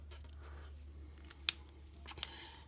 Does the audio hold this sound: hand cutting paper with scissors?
yes